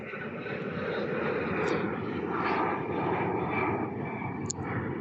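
A Cathay Pacific airliner taking off gives a steady, broad jet roar that holds loud throughout, with faint distant chatter underneath.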